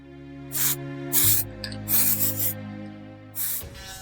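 Several short rasping strokes of sanding on a plastic model of the battleship Bismarck, close and distinct, separated by brief pauses over a steady low musical drone.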